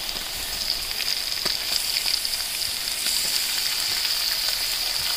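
Tomatoes dropped into a hot frying pan for a pomfret fish molly give off a steady, close, bright sizzle throughout, with faint stirring scrapes and no talking.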